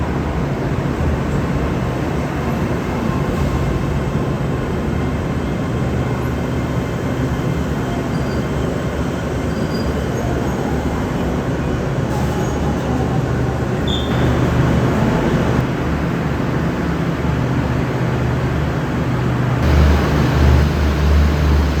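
A steady rumbling train hum fills a station platform continuously, loud and close, with faint mechanical whines and shifts in tone.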